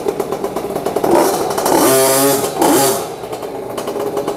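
A 50cc two-stroke mini trail motorcycle (MX50) engine idles with a buzzing rattle, then revs up twice in quick high-pitched bursts before settling back down.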